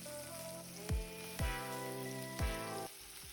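Chicken breast browning in a pan of oil and butter, a steady close sizzle with a few sharp knocks or thumps from handling the pan, no talking.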